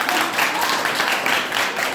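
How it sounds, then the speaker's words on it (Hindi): Children clapping for themselves at a general-knowledge awareness program, a dense, continuous patter of applause filling the room at close range. "चलिए बच्चे अपने लिए ताली बजाइए"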